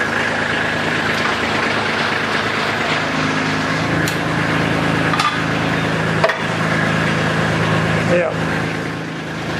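A compact tractor (LX2610) with a Land Pride RB1672 rear blade idles loud and steady as the blade is lifted, with a voice briefly speaking over the engine drone.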